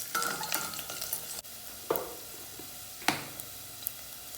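Finely chopped garlic and chili flakes fry in olive oil for vegetable lasagna sauce, a quiet sizzle under a few distinct stirring scrapes and clinks spaced about a second apart, with no voices.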